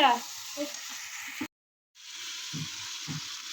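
Meat tipped into a hot pan of browned onion, ginger paste and chilli paste, hissing into a steady close sizzle that cuts out briefly and resumes, with faint stirring knocks beneath.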